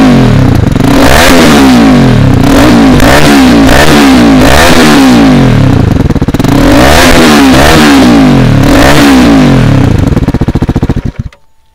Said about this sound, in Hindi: जो अभी आपने आवाज़ सुनी ये डीबी क्लियर के साथ था एग्जॉस्ट की साउंड